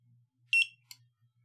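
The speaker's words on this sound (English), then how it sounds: "you press and hold one of the buttons on the TX until it beeps once." Sharp, short electronic beep from the RF remote transmitter of a Wi-Fi smart switch setup, sounding once close and clear, then a fainter click in an otherwise quiet room.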